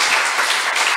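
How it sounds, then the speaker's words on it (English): A church congregation clapping together, a dense, bright, loud wash of many hands filling the short moment with no voices. "Let's clap to God for that."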